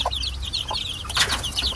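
Young chicks being raised on a small farm, giving soft repeated clucks and chirps close by, with a brief flutter of wings midway.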